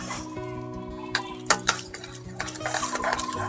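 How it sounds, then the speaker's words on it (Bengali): A utensil stirs and scrapes a sweet carrot, sugar and sesame mixture in a pan, with irregular clinks and scraping strokes that build up, close and moderately loud, with no talking. "চিনিটা দেওয়ার পর খুব ভালো করে একটু নাড়াচাড়া দিয়ে নেব।"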